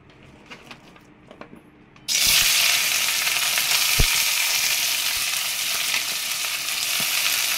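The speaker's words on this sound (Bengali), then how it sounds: "এইবার আমি করলাগুলো তেলেতে ছেড়ে দিচ্ছি।" Bitter gourd pieces tossed into hot oil set off a sudden loud, dense sizzle that roars on steadily after a quiet start of faint clinks, with one sharp knock partway through, up close and with no voices.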